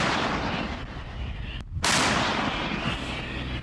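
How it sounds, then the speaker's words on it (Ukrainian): A Polish Krab self-propelled howitzer fires on the front with a loud, sudden blast, heard amid a constant roar of wind and engine noise. "Десь на фронті ворога цілять краби, самохідні артилерійські установки з Польщі."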